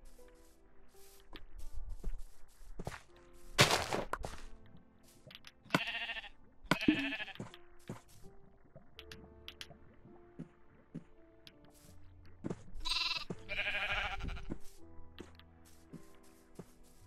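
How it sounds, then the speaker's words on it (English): Minecraft sheep give short, sharp bleats, several separate calls spread across a quiet background of soft game sounds, with no talk. "gonna herd more sheep"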